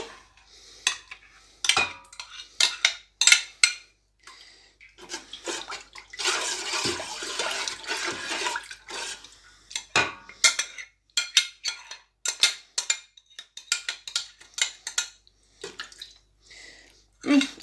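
Ground herring milt being mixed with water for a grandmother's pickled herring recipe, a series of close clinks and scrapes of utensils against a dish with a brief watery pour in the middle.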